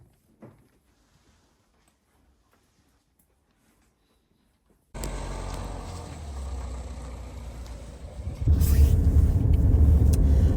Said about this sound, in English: Okay, we're back in the car.